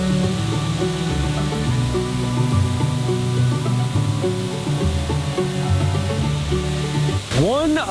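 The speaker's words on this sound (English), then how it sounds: "One of the tallest and most impressive waterfalls in the southern Appalachians, dropping nearly 120 feet down mossy rock." Tall waterfall in the Smoky Mountains dropping nearly 120 feet over mossy rock, a steady broadband rush of falling water that continues unbroken throughout, with low tonal sounds layered beneath it.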